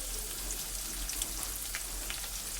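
Dried red chillies and curry leaves fry in hot coconut oil as a continuous, fairly faint sizzle, a fine crackling hiss with light scattered pops over a low steady hum, heard alone.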